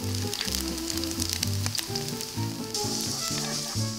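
Oyster and seaweed pancake batter of flour and egg sizzles and crackles in a hot pan, a steady close frying hiss, with a spoon scraping and tapping in a bouncing rhythm over it.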